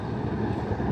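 A truck passes by outdoors in a crop-dusting area, a low rumbling engine drone that stays loud and steady throughout, with no talking.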